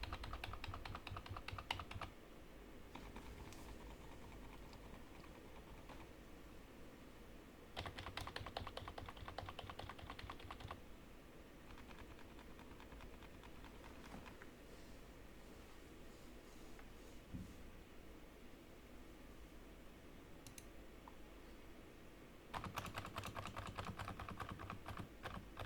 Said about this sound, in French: on va passer au test son du clavier